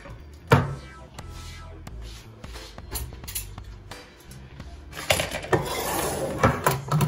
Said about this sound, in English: I'm gonna open up my can of greens